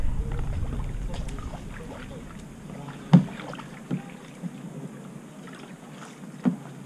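Kayak paddled through ocean water off St Thomas, with a steady low wash and wind noise and several soft, spaced paddle splashes and knocks at close range.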